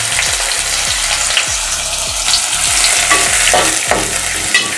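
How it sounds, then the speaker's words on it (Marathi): Onions dropped into a spice tempering for khichdi, a loud continuous close sizzle with rhythmic stirring scrapes, no voices. "आता यामध्ये हे कांदे आहेत ते मी टाकून देणार आहे"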